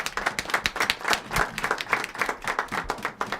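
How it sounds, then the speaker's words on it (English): A small audience at a public forum reviewing Parliament's performance claps briskly, a close, fairly sparse applause with distinct individual hand claps throughout the short burst. "give him a round of applause"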